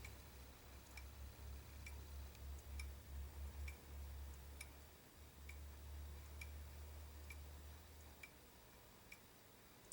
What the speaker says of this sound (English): And your clock will run nice and even.